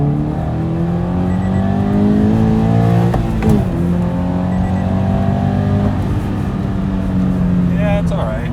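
A 2013 Scion FR-S with 100k miles accelerates hard at full throttle, its engine droning loud and close from inside the cabin, rising in pitch through the gears with a shift midway, while a person talks over it.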